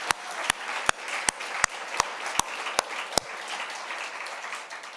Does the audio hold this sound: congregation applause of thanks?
yes